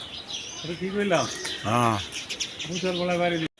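High-flying Giribaz, Panki, Army and Silver pigeons give a few rising, warbling calls close by in a loft, heard under a man's speech.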